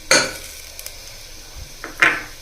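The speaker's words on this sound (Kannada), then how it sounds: "ಈ ಬೆಳ್ಳುಳ್ಳಿ ಒಂದು ಸ್ವಲ್ಪ ಕಲರ್ ಬರೋವರೆಗೂ ಫ್ರೈ ಮಾಡ್ಕೋಬೇಕು" Garlic is frying in a pan for Mysore dal, with a soft sizzle broken by a couple of sharp scraping stirs of a utensil against the pan, close and brief.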